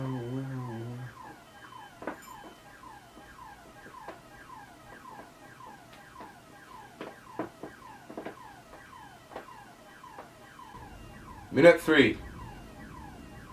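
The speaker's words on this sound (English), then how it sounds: "I'm just gonna listen to a car alarm for a while." A car alarm goes off outdoors, cycling through its repeating warbling and chirping tones at a steady distance. A short word is spoken near the start, and a loud burst of other noise cuts in near the end.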